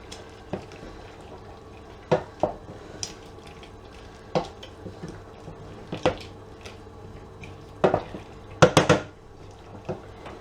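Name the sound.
stirring paprika pork in a pot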